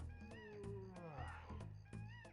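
A cat yowls and meows several times in drawn-out, wavering cries, close and fairly loud, with clicky background noise between calls.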